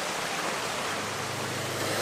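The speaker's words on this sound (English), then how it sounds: "just in the background beyond the bridge there looks to be an amazing waterfall" A waterfall in hill country near a bridge pours as a steady, broad rushing roar, loud and constant with no voices.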